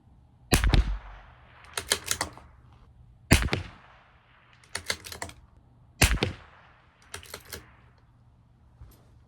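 Rifle shots from a CZ 457 LRP with an IBI barrel firing Eley Team rimfire ammunition at 200 yards: six sharp reports in loosely spaced pairs, each followed by a faint distant target tick, with quiet gaps between.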